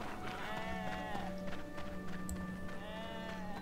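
Repeated bleating sheep calls in RuneScape 3 rise and fall over a steady hum and some clip-clop sounds, fairly close and continuous.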